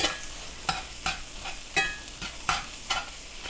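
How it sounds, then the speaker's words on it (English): Eggs are stirred and broken up in a hot pan for cheddar bratwurst breakfast burritos: a soft sizzle with regular spatula scrapes, about one every half second. "We're gonna break up those eggs."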